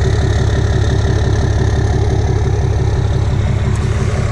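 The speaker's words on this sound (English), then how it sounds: "Exhaust sounds amazing." A 2016 Ram 2500 with the 6.7 Cummins diesel, tuned and fitted with a 4-inch exhaust, idles steadily nearby. Its deep, even rumble carries a loud, constant low pulse, heard alone without talk.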